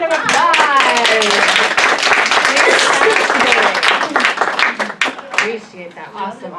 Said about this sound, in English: And let's give Amy a round of applause